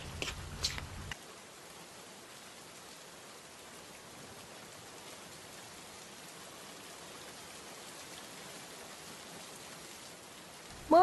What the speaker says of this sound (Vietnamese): Mưa quá trời luôn các bạn ơi